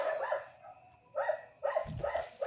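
A dog barks repeatedly in short bursts, fairly close and loud, with brief pauses between the barks and no talk over them.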